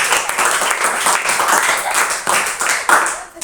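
Classroom applause for a student group presenting its work, a dense burst of many hands clapping steadily for several seconds at close range, filling the room without talk over it.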